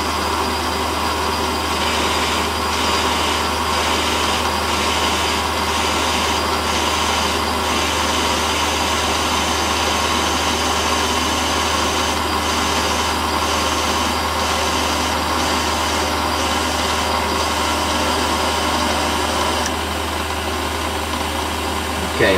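Metal lathe taking a light finishing cut on a custom dart barrel, a steady motor hum and whine running continuously at close range with faint rhythmic ticking, no speech.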